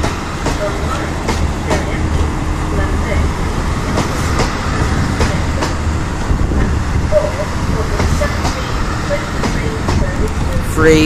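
A six-car train rumbles steadily into a station, a loud continuous rolling roar with faint clicking of wheels over the rails throughout.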